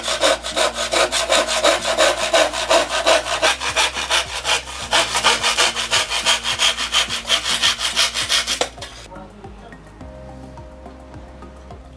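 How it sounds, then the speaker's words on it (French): A hand saw cutting through a wooden batten with steady, rhythmic back-and-forth strokes, loud and close, then the strokes grow quieter and lighter toward the end as the cut finishes; no speech. "En utilisant une scie à main, il y a plusieurs procédés."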